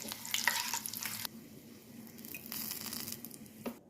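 Ajwain seeds with whole Kashmiri red chillies dropped into hot oil for a tempering, crackling and sizzling close by in brief bursts, with stirring scrapes and no voices.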